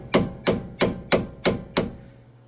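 A 10 mm socket on a car's brake bleeder valve is struck with six sharp metallic taps at an even, unhurried pace, each ringing briefly before the next; close and clear with no talking.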